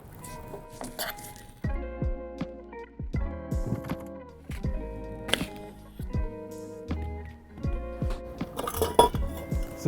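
A knife cuts limes and lemons in half on a board for margaritas, giving a series of sharp clacks and knocks with ringing metallic and glassy clinks, spaced irregularly and heard close up with no talking.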